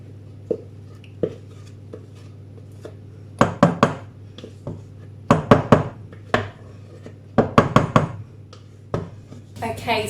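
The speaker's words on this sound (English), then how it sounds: "Now, here is the next mix here going in to the tin." Coffee and walnut cake batter is scraped from a bowl into a baking tin, heard as clusters of close sharp taps and knocks of a utensil on metal and bowl, with talk in between.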